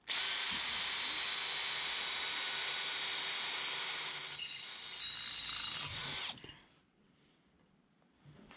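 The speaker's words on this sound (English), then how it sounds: "Trying to drill some holes." A power drill whines loudly and steadily for about six seconds drilling holes in a metal boat trailer chassis, then stops abruptly, leaving quiet background noise.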